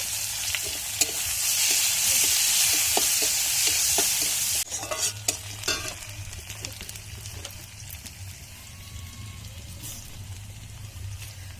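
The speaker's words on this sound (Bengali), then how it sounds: "এবার দিয়ে দিচ্ছি কুচনো পেঁয়াজ" Chopped onions hit hot oil already seasoned with cumin and dried chilli, giving a loud, steady sizzle for several seconds before it eases into quieter frying broken by scraping stir strokes, in a home kitchen cooking pangas fish.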